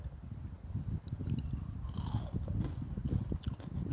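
Crispy deep-fried small fish, pla khayaeng, are bitten and chewed close up, producing repeated crunchy bites and wet chewing in a steady rhythm, fairly quiet and without talk.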